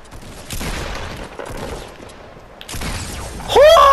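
Gunfire in the video game Fortnite Battle Royale, a headshot amid a short run of loud shots and bursts, followed by sharp game effect tones at the end.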